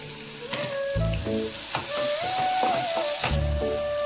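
Soaked, squeezed meal maker chunks and cut vegetables going into a hot pan, a loud crackling sizzle with stirring clatter and a few sharp knocks, while a steady whistling tone runs underneath.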